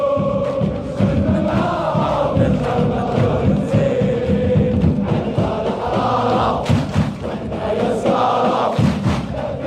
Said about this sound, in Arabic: صوت الجمهور بوحدو كيتسمع